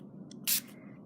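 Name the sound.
spraying purple watercolor spray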